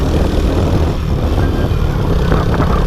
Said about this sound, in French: C'est globalement assez classique hein, comme son de moto.